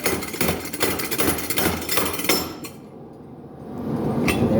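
A homemade power hammer on its first test run pounds loudly and rapidly in a workshop, metallic hits coming in quick bursts that pause briefly midway before resuming.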